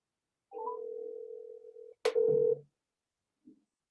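After a phone call is hung up, a steady telephone tone sounds for about a second and a half, breaks off, resumes briefly, and ends in a faint blip, all against silence.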